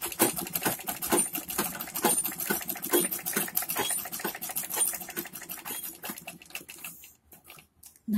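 A sewing machine runs steadily, stitching buckram onto a full Patiala salwar, its rapid needle clatter loud and continuous before slowing and stopping near the end.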